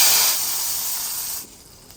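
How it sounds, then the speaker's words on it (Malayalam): Sesame seeds splutter in hot oil for mango payasam, a loud, bright hissing spray that holds for over a second and then drops off sharply to a faint simmer. "എന്നിട്ട് എള്ള ഉടക്കാം"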